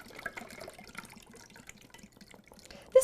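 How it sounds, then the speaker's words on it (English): Cocktail poured into a pair of small martini glasses, a soft continuous trickle of liquid with faint drips, ending in a brief louder splash. "I have my 2 little martini glasses here. Just going to pour this."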